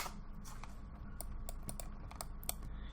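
Quiet, steady clicking of typing on a computer keyboard while working in Unreal Engine, with keystrokes spread irregularly over a low background hum.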